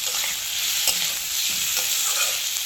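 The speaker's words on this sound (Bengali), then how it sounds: "এবার একটু আদা কড়া দিয়ে দিচ্ছি, দিয়ে একটু নাড়িয়ে নেবো" Chopped onions and ginger frying in a pan for khichuri, with a constant close sizzle and repeated scraping stirs of a spatula spaced through the whole stretch, no voices.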